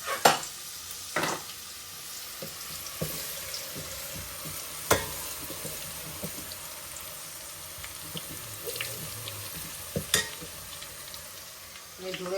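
Garlic paste frying in a pan with chutney while cooking pav bhaji, a steady sizzle with intermittent stirring clatters and scrapes, close and moderately loud, with a few sharper knocks.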